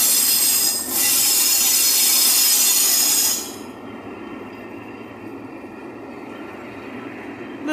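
A train passes at Maidstone West station with loud, high metallic wheel squeal for about three seconds, then drops to a lower rolling rumble with a faint lingering tone, no voices.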